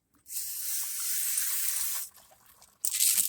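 A hissing spray of water runs steadily for about two seconds, pauses briefly, then bursts again loudly near the end.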